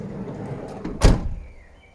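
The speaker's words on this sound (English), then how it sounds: "Also another option on this vehicle is the soft closing sliding door." The soft-closing sliding door of a VW T6 van pulls shut with a single firm thunk after a brief rolling slide, close and loud, followed by a short fading mechanical whir.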